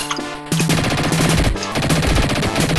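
Rapid machine-gun fire in the Dick Tracy video game for the Sega Genesis crackles in loud, repeated bursts over a backdrop of game music.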